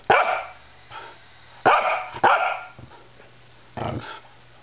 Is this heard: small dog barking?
yes